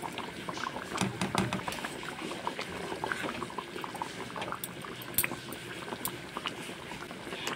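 Chicken curry bubbles in an open pot over high heat, a steady close simmering gurgle with small pops and spits, no voices over it.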